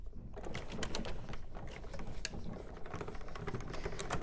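Card stock is fed through a die-cut machine, giving a dense, continuous mechanical clatter and grinding with rapid clicks, close and fairly loud throughout.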